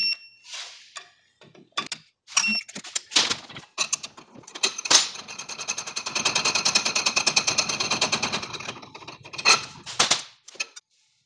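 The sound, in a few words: torque wrench tightening bolts to 10 foot-pounds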